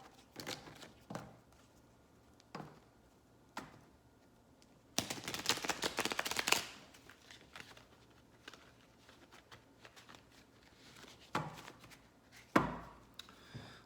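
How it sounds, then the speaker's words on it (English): Tarot cards are shuffled quietly, with scattered soft taps and one louder, longer riffling burst in the middle, followed by a few more brief flicks. "Let's give another good shuffle."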